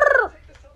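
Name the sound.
person imitating a bird or chicken call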